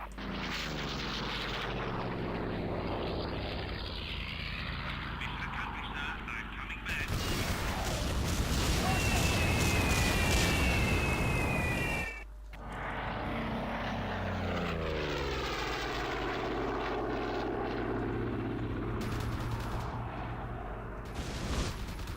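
Video game Corsair propeller aircraft engine droning steadily, swelling into a louder roar with a high whine midway, then a brief cut before the engine hum returns.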